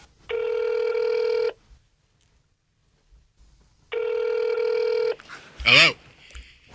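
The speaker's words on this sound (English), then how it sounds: "Let me just make this phone call real quick." A telephone rings in two long electronic bursts separated by a pause, loud and clear, followed by a brief voice answering.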